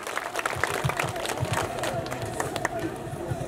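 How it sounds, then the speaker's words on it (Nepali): Audience clapping welcomes a singer at a church building inauguration and annual celebration in Nepal, with steady, moderately loud applause from the crowd while a voice talks over it. "हजुरहरूले ताली बजाएर सम्मान तथा स्वागत गरिदिनु होला"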